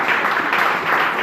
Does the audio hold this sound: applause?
yes